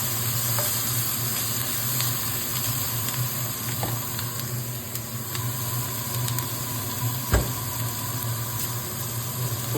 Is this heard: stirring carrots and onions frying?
yes